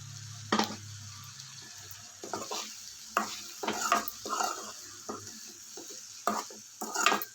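Ground spice powder of coriander, cumin and garlic is stirred into soft pressure-cooked beans in a pan, with a spoon scraping and clinking against the metal in uneven bursts over a low background hiss.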